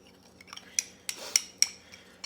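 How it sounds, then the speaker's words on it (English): A spoon clinks against a bowl while brown sugar bourbon maple glaze is stirred, a handful of sharp, close metallic taps at uneven intervals over near silence. "all we have to do now is just stir this up"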